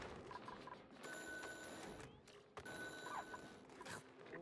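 A telephone rings in the colony-building game Oxygen Not Included, two quiet bursts of electronic ringing with a short gap between them over faint background game audio.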